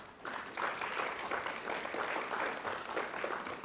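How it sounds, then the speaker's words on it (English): A commencement audience applauds student support groups with sustained, even clapping from a large crowd throughout. "give your support groups a round of applause"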